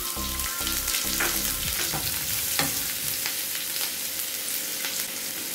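Onions fry in hot ghee with cashews, giving a bright, continuous sizzle up close, broken by scattered scraping and stirring clatter. No one speaks.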